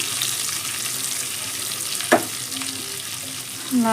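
White brinjal fries in hot oil with garlic, coconut and chili, a steady close sizzle broken by occasional scraping stirs of the spoon through the pan.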